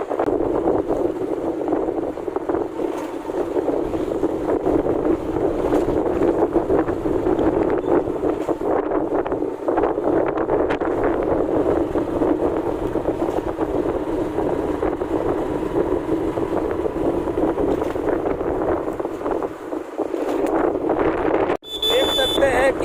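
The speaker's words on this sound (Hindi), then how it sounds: "ठंडा ठंडा हवा चल रहा है" Cool wind rushing steadily along a road in Jharkhand, a dense, unbroken roar buffeting close to the microphone for the whole stretch.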